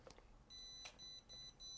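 An electronic device gives a series of short, high-pitched beeps in a steady rhythm, faint and close, with no voices.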